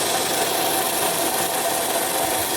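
A pellet mill granulator with a 205 mm die runs continuously, a loud, dense mechanical roar and rasp that stays steady throughout, with no talk over it.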